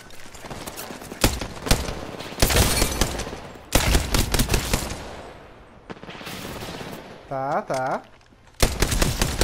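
Flatline assault rifle fire in Apex Legends, several rapid automatic bursts cracking loud and close between pauses, with a brief electronic tone and players talking over the game.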